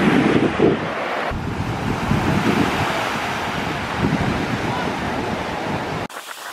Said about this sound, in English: Guys, we're at the beach.